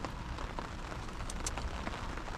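Rain patters steadily on a bivvy beside a lake, a soft continuous hiss with scattered close drops tapping the fabric, fairly quiet and with no voices.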